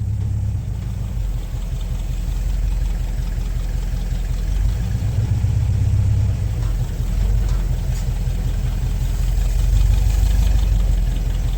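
A 1953 Ford F100 truck engine runs steadily with a low, continuous rumble close by, a constant idling drone with slight swells in level throughout.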